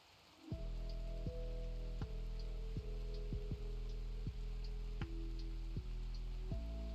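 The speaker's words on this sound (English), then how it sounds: "Oh, hey, toxic rain." Toxic rain falls in a survival game, a steady hiss of rain on surfaces starting abruptly and continuing evenly, with a low droning ambience and faint periodic tones underneath, no one talking.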